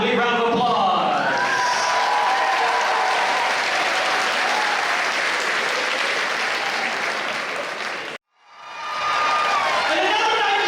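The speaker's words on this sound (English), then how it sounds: "One more time, big round of applause." A school assembly crowd applauding a scholarship award, loud sustained clapping with some cheering that runs for about eight seconds, cuts off abruptly, then swells back in.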